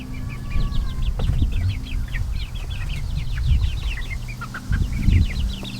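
Chickens cluck and chirp steadily in a farm yard, many close birds giving rapid overlapping calls over low rustling and scraping around a feeder.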